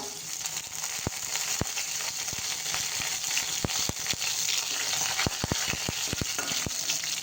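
Curry leaves and a pinch of asafoetida hit hot oil for a tempering of tomato varan, a loud steady close sizzle with frequent sharp crackles and pops throughout and no talk.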